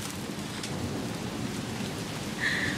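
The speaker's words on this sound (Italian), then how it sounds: "Un quarto d'ora di grandine, va che roba!" Summer hail in August pelts down in a steady, dense, hissing roar throughout, with a brief brighter patter near the end and no voices.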